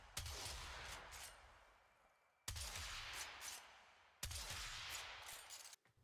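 The Corinth hybrid shotgun fires three heavy blasts in the video game Warframe, each a sharp loud crack followed by a long decaying rumble, spaced about two seconds apart with no talk.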